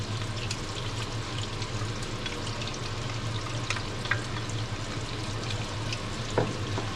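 Garlic fries in a pan over medium heat, giving a steady close sizzle with faint clinks and stirring, alone without talk.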